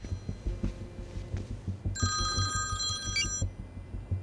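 A telephone rings with a call from an unknown number, its bright electronic ringing starting partway through and repeating over a low rhythmic thumping background.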